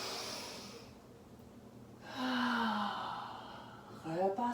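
A deep inhaled breath taken during a dance flow exercise, heard up close as a long, soft breathy draw with a faint voiced sigh toward the end and quiet room tone around it.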